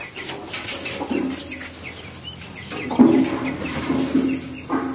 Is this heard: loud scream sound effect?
no